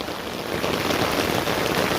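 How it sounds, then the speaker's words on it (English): Steady rain pours down during a thunderstorm, a dense, even hiss of drops close by with no thunder or voices in this short stretch. "This is the rain."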